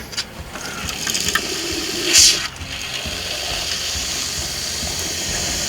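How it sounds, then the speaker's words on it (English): Water running from the kitchen sink faucet of a Winnebago Revel 4x4 RV, a steady close hiss and splash that holds throughout, with a few clunks and one brief louder burst early on. "we're just gonna run it till that nice and clear stream comes out"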